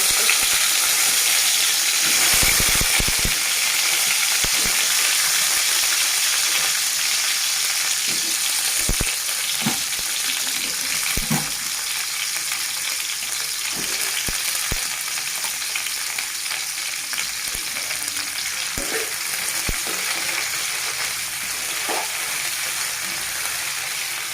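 Cut tomatoes frying in a kadai, a loud continuous sizzle and crackle up close, with scattered spatula clinks and stirring scrapes throughout.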